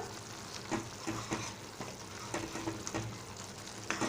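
A spoon stirs a simmering Malvani-style tomato bhaji in a pan, soft scraping knocks at irregular intervals over a continuous quiet sizzle and bubbling, close and alone.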